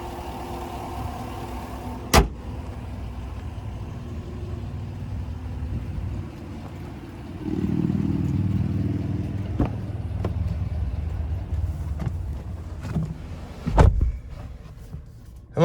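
A 5.3-liter V8 in a 2021 Chevrolet Silverado 1500 LT Crew Cab idles with a low, steady rumble that swells louder around the midpoint. A few sharp clicks and knocks punctuate it, and no one speaks.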